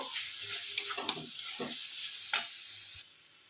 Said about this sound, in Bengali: দিয়ে ভালো করে মশলাটাকে কষে নেবো